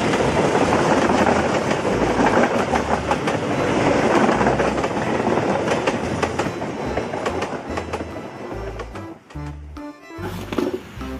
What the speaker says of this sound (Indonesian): Ada lokomotif juga